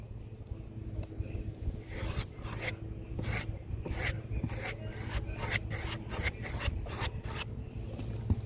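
Small brush scrubbing sealant into pinholes on a roof, a soft, quiet rasping that repeats in rhythmic back-and-forth strokes over a low background hum, with no voices.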